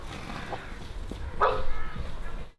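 Dogs bark from a garden next to a horse pasture. A few scattered barks come through, with one louder bark near the middle, over outdoor rustle and some voice-like sound.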